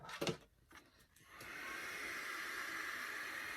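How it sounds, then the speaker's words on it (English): A small fan dries lash extension glue beside the eye, its steady soft whirring hiss starting about a second and a half in and holding evenly to the end, after a few faint handling taps. "I use my fan to dry it because I don't want any of that in my eyeball."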